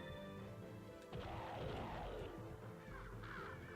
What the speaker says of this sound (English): More crows or ravens or whatever bird they are.